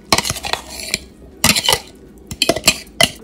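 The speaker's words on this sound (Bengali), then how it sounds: "পেঁয়াজটা, আর রসুনটা কুচিয়েছিলাম ওটা দিয়ে দেবো।" Chopped onion and garlic go into a pan in a home kitchen with a quick run of sharp metallic clinks and clatters from a utensil striking the pan, in short irregular bursts with quiet gaps between.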